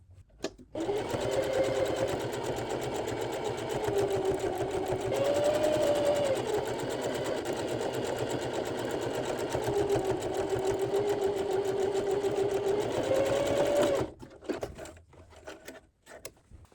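A sewing machine runs steadily for about thirteen seconds, stitching a drawstring channel into a fabric gift tote bag. The motor whirs close and loud, with a slight rise and fall in pitch, then stops abruptly.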